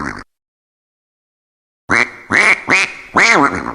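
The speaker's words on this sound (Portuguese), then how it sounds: "Um pato." A duck quacks four times in quick succession, loud and close, after a brief sound and a moment of silence, in a children's animal-sounds cartoon.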